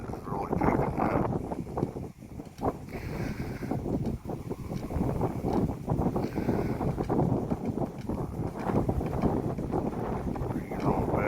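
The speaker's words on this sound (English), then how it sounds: "that wind is really picking up" Strong wind blows outdoors, buffeting the microphone with loud irregular rumbling gusts throughout, rough and continuous.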